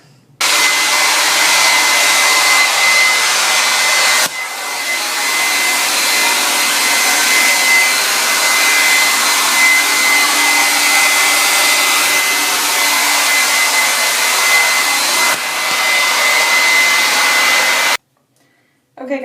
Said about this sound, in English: I'm gonna blow dry it and I'll come back.